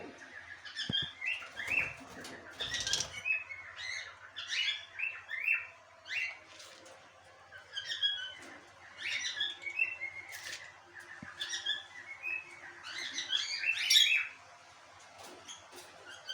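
About forty pairs of caged lovebirds chirp and tweet in a busy, overlapping chorus of sharp calls, with wings flapping and rustling throughout, moderately close and continuous.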